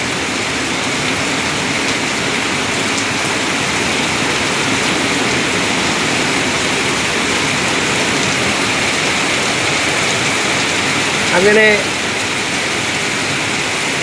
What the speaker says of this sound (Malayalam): ശക്തമായ മഴത്തുള്ളികൾ പതിക്കുന്ന മഴയുടെ ആരവം